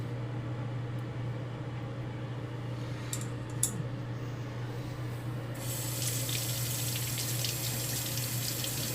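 Running tap water splashes steadily into a sink as a Japanese natural whetstone is rinsed, a continuous close rush that grows brighter and louder partway through, with a few small knocks.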